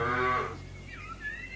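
A cow in a farm barn lets out one loud, close low moo that tails off, followed by quieter barn sounds.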